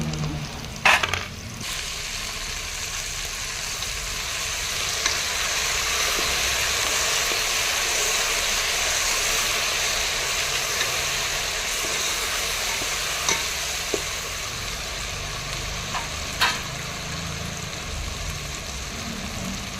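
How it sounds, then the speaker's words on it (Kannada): Chili, ginger and garlic paste fries in hot oil for village-style chicken biryani, a loud, steady sizzle lasting the whole time, with a couple of utensil clinks at the start. "ಮೆಣಸು ಶುಂಠಿ ಬೆಳ್ಳುಳ್ಳಿ ಪೇಸ್ಟ್ ಹಾಕೋತೀನಿ"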